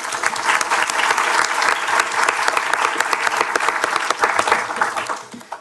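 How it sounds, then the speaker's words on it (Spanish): Dense, lively applause from an audience at a science debate event on GMOs, welcoming a speaker from a sustainability foundation, a steady wash of clapping that holds strong and then tapers off at the end. "Le damos un aplauso a María Isabel Mansur"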